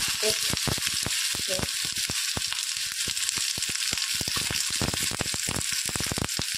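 Sliced onion fries in a pan with a continuous hiss dotted by many sharp crackling pops at an uneven rhythm, close and moderately loud.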